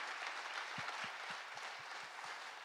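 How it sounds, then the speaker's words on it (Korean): A church congregation applauds during an autumn revival sermon, a steady wash of many hands clapping that fills the room at an even level, with a faint low thump recurring underneath. "박수 한번 하겠습니다"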